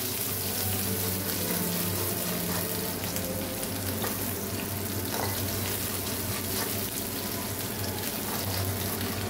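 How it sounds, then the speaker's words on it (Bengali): Sliced onions frying in oil over high heat for a Bengali boal fish dopiaza, giving a steady, dense sizzle with faint clinks and scrapes throughout, no voices. "এবার এই পেঁয়াজগুলো যে কেটেছিলাম এটা ভেজে নেব"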